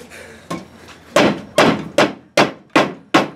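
An axe chops a notch into a log during a log-craft demonstration at a log house museum: about six sharp, evenly spaced woody strikes, each ringing off briefly, follow a few fainter taps, close and loud with no talking.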